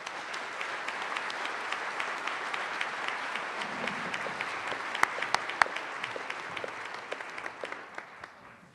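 An audience at a behavioral health forum applauds to welcome two speakers onto the stage, a steady wash of clapping from many hands with a few sharp nearby claps standing out, fading slightly at the end.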